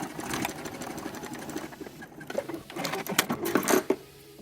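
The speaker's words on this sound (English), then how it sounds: "And now we're going to press that seam up and then top stitch it." A sewing machine runs in short bursts while top stitching a pressed seam on a string-back garment, its close mechanical whir rising and falling over about four seconds with no talking.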